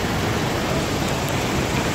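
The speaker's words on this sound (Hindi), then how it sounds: "बहुत भयंकर बारिश हो रही है यहाँ पे" Heavy rain pouring in the mountains after a cloudburst upstream, a dense, steady roar of broadband downpour that stays loud and unbroken throughout, with no voices.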